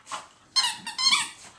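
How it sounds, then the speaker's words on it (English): A squeaky fake-mouse dog toy gives about three quick, shrill squeak bursts close by while a dog chews it, with no talking. "Fake mouse is very real, right, Pepper?"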